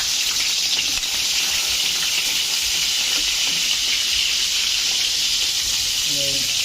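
Onion dropped into hot cooking oil, a loud steady hissing sizzle throughout, close and constant, with a faint voice near the end.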